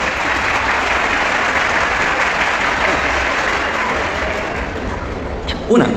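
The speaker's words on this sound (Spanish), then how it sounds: "No, insisto, aplausos primero." Steady, dense audience applause at a live debate between pastors and Father Luis Toro, filling the whole stretch at even loudness before a brief bump near the end.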